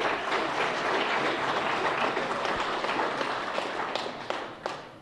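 Applause from a crowd at a 2022 municipal election results broadcast: steady, dense clapping that holds fairly loud throughout and thins slightly toward the end.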